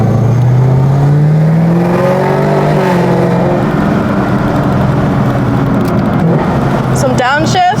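A 750-horsepower Camaro ZL1 in sport mode roars loudly from inside the cabin. The engine revs and drops through several downshifts, with blips toward the end.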